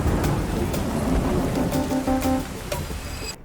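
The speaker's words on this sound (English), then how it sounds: "It is raining. And the thunder is quite loud." Rain and thunder in a virtual reality fantasy game, a steady loud downpour hiss with rumbling thunder beneath, continuous throughout and easing slightly near the end.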